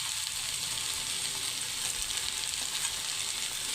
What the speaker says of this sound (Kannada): ಇಲ್ಲಿ ಆಲೂಗಡ್ಡೆ 1-2 ನಿಮಿಷ ಚೆನ್ನಾಗಿ ಫ್ರೈ ಆದ ನಂತರ ಈಗ ಕಟ್ ಮಾಡಿ ಇಟ್ಕೊಂಡಿರೋ ಟೊಮೆಟೊನ ಹಾಕ್ತಾ ಇದ್ದೇನೆ.